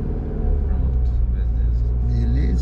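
A Rampage pickup from RAM rumbles with a deep, steady engine drone that barely rises in pitch while the driver eases on the throttle during an off-road hill test, with people talking over it.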